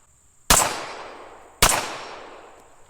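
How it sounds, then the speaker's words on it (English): Two loud pistol shots from a Tisas 1911A1 firing 230 grain Hornady XTP hollow points, about a second apart, each a sharp crack with a long, ringing outdoor decay and no talking. "I'll fire out the last 2 rounds here."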